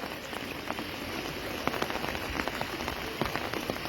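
Heavy monsoon rain pours down in flood-level intensity, a dense, steady patter with scattered sharper drop impacts throughout.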